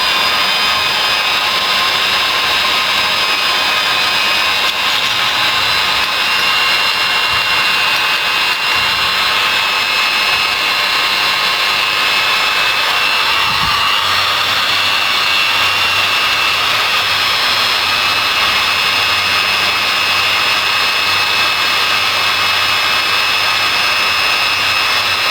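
A hand drill speed-controlled by an AC dimmer grinds the ports of a two-stroke Kawasaki Ninja engine block, giving a steady, bright, high-pitched whine that holds for the whole stretch with no speech.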